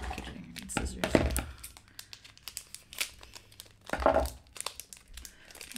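Crinkly plastic packaging of mechanical pencils being handled, pulled and torn in repeated bursts of rustling close by, with someone talking throughout.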